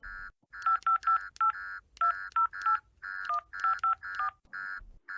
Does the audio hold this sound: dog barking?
no